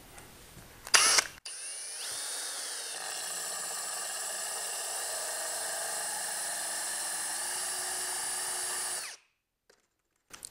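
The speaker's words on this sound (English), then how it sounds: "I've got my drill on just normal drilling action and in high speed" A steady high-pitched power drill whine, drilling into wall tile at high speed, runs for about seven seconds without pause, close by, then cuts off abruptly.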